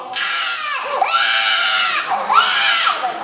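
A voice actor imitates a baby crying with loud, wailing cries that rise and fall in pitch, two long sobbing bursts delivered close to the microphone.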